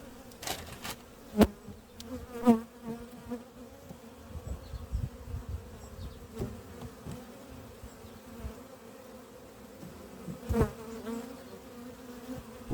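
Honeybees buzzing steadily and close during a hive inspection as frames are lifted from the hive, a dense droning hum with a few sharp knocks and clatters of handling scattered throughout.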